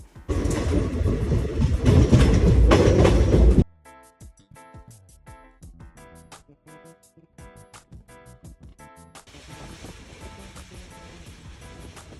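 A train roars past close by for a few seconds, then fades to a quieter, steady rhythmic clatter.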